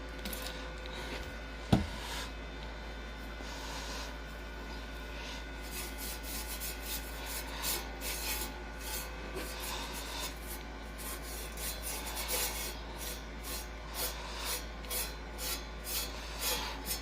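Rust converter being brushed onto a truck, with soft, close rubbing strokes repeating in a steady rhythm over a low, constant background hum, with a single sharp knock early on.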